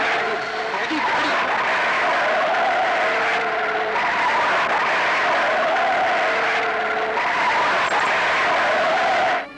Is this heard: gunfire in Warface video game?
no